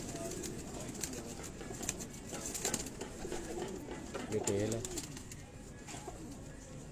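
Pigeons coo softly on a rooftop in Kasur, their low calls faint beneath someone talking nearby, with a light background hiss.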